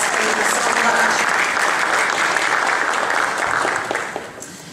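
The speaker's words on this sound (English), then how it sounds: "Can you give them a big round of applause?" Audience applause for a group of women singers at a choral session, a steady dense clapping that fills the room and then thins and fades toward the end.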